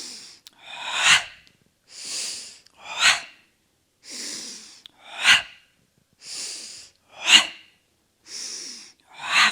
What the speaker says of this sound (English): Let's actually do a double breath. In and exhale.